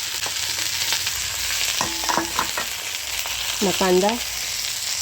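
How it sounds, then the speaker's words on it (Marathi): Okra frying in a pan over a wood-fired village stove, a steady broadband sizzle running the whole time while someone speaks briefly and utensils clink faintly. "आता चालली भेंडी."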